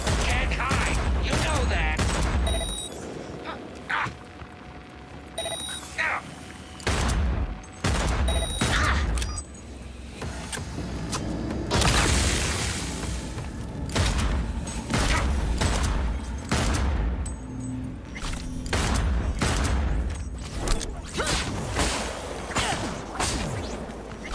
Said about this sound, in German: Kurz die Granate reinschmeißen.